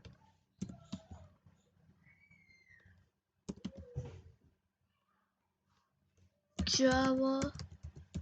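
Computer keyboard keys tapped in short bursts during an HTML and JavaScript coding lesson, clicks moderately close and spread across the clip, with someone speaking between and over the typing.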